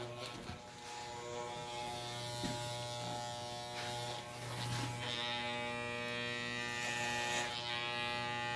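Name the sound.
electric hair clipper with guard cutting hair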